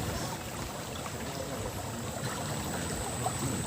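River water flows in a continuous, fairly quiet rushing wash with fine babbling texture, steady and unbroken with no voices.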